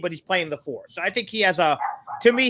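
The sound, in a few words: dog barking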